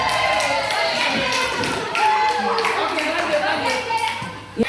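Church congregation members at an Indonesian Independence Day celebration clap for group winners, an uneven burst of close hand claps with thumps, cheers and voices talking over it.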